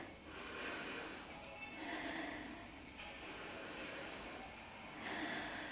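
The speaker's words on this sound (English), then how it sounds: "Take 2 deep breaths." Slow, deep yoga breaths taken during a side-body stretch: long, soft airy inhales and exhales, close to the microphone, about two full cycles with a steady rhythm and no talking.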